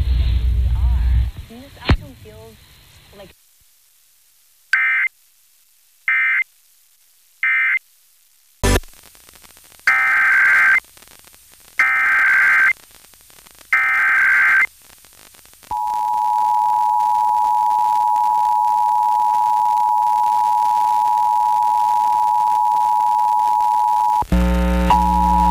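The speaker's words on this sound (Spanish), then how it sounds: "This station is conducting a required weekly or required monthly test of the emergency alert system." Arkansas statewide Emergency Alert System test: bursts of harsh data tones repeat in short blocks, followed by a long steady alert tone, loud and without voices.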